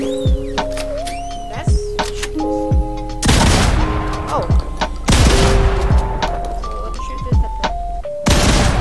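Loud gunshot bursts from a new shotgun in a video game, several heavy blasts spaced a couple of seconds apart over game music tones and interface beeps.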